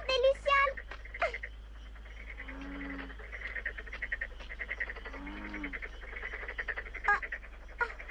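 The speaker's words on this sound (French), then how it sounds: "Ça, c'est un crapaud buffle, ce n'est pas méchant." A buffalo toad croaks twice near a bath area at night, low pulsing calls in a quiet outdoor setting, with a voice and other chatter heard.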